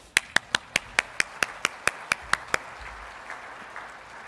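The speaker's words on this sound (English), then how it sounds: "So I'll give one more round of applause." About a dozen sharp, evenly spaced claps ring out from a small audience at a Korea and Cold War annual government brief, then stop abruptly, leaving a quiet room.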